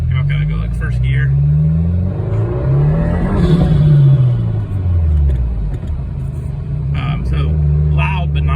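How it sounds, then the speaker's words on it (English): A 2022 Subaru WRX with a muffled exhaust pulls hard in first gear, its deep engine and exhaust rumble rising and falling inside the cabin at moderate volume, with a voice heard briefly. "It's got a little bit more of like a rumble inside the cabin, kind of like a deeper sound, but not necessarily a loud sound."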